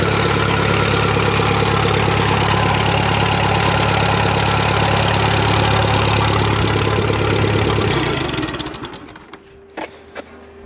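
A restored 1948 Silver King tractor engine idles without a muffler, a loud, steady, throbbing close-up rumble that dies away near the end, followed by a couple of faint clicks.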